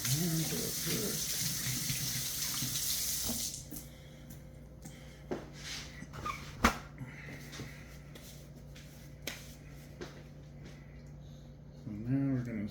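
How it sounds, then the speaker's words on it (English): Hands being rinsed under a running kitchen tap while prepping a turkey for the smoker, a steady loud water stream for a few seconds that then stops, followed by quieter clinks and handling sounds, with a brief splash again at the end. "I'm gonna wash my hands real quick."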